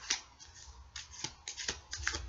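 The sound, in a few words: shuffling tarot cards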